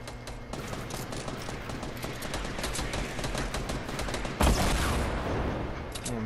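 Dense, continuous gunfire crackles through a Fortnite squad fight, rapid overlapping shots forming a steady fusillade, with a sharper, louder burst of fire near the end.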